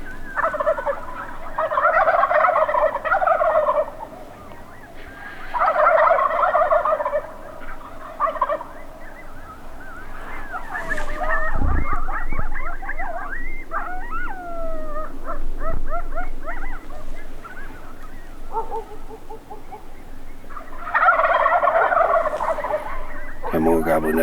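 Several wild turkeys gobble from a roost along a hillside drainage, loud rattling bursts repeating outdoors, with a dog-like howling cry in the middle and more gobbles returning near the end.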